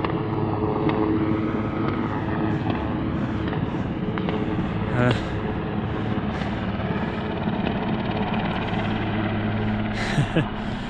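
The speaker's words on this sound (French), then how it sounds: "Et un hélicoptère qui nous tire dessus" Helicopter circling over Mont d'Or mountain terrain, a steady rotor and engine drone filling the air throughout, with brief sharper sounds and a voice speaking over it.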